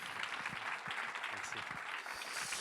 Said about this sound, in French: On peut applaudir Miguel.